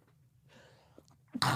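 A single sharp sneeze bursts out loudly near the end, preceded by a faint intake of breath and a quiet room background.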